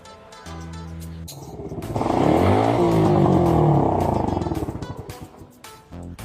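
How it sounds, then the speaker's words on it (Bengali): A motorcycle ridden recklessly swells into a loud, close engine roar with a rising rev that holds for a few seconds, then fades as the bike moves off. "কি বস্তির মতো বাইক চালিয়ে যাচ্ছে"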